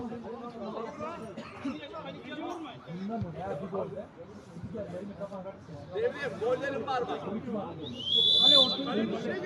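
Crowd chatter and voices fill a football match, then a sharp, shrill referee whistle blast cuts through near the end.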